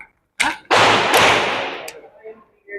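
Two sharp, loud gunshots from a Tisas 2011 Commander-size double-stack 1911 high-capacity pistol, the second followed by a long ringing decay, with a brief click and faint noise after.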